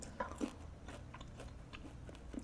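Crunchy fried pork rinds (chicharrita) from a Peruvian supermarket being chewed up close, a series of crisp bites and crunches recurring irregularly for a couple of seconds, fairly quiet and with no talk.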